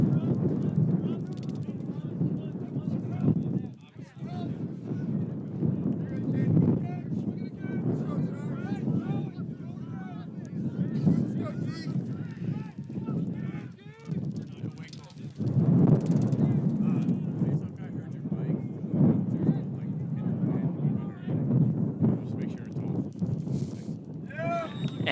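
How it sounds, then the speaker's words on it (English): Gusting wind buffets the microphone at an outdoor men's lacrosse game between the Dragons and Army Prep, a steady low roar running throughout with brief dips and surges, while distant voices carry faintly beneath it. "Wind continues to pick up."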